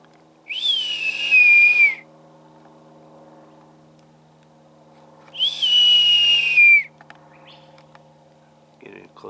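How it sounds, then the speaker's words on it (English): A person whistles twice, each a clear, sliding tone lasting over a second, separated by a pause, heard outdoors against a faint low hum. "That's me whistling."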